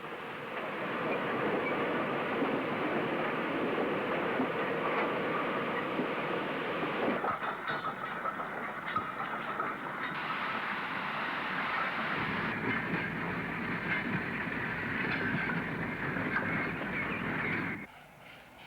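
A steam locomotive train descends an incline near Bromsgrove, with a continuous heavy roar and faint rhythmic clatter, fading slightly at the very end.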